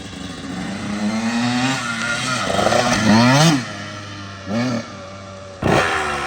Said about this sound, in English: it's a little loud, but like, it's a 2-stroke